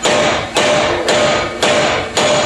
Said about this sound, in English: we got our hammer and wedge, and we hammered in these cuts